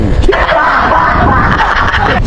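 A person screams loudly and continuously for about two seconds amid the commotion of a group on a fishing outing caught in a storm.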